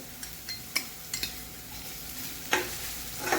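Ginger garlic paste and onion are stirred in a pan, with a few distinct spatula scrapes and taps over a light sizzle.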